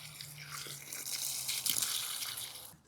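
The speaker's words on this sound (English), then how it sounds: "Just gonna water the planting hole." Water gushes steadily into a planting hole on a UK allotment plot in February, a continuous splashing pour near the listener that cuts off abruptly at the end.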